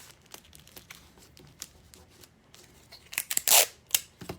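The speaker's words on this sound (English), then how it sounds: "I'm just gonna tape it to the back" Scotch tape is torn and pressed onto the back of a paper printable, heard as scattered soft clicks and crinkles building to a sharp ripping tear near the end, close and quiet.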